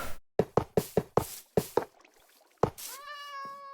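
A Minecraft cat meows once near the end as a short tonal cry, after a run of sharp rhythmic knocks and taps in the game.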